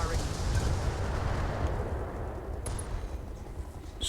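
Mech weapons fire in the turn-based game Battletech, modded Roguetech, a dense continuous rumble of heavy gunfire and booming impacts, loud and sustained throughout with a couple of faint high pings.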